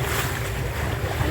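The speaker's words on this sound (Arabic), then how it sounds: "الموج عالي قوي." Big, rough sea waves surging around a boat, a steady loud rush of water and wind with low rumbling, continuous and close with no speech over it.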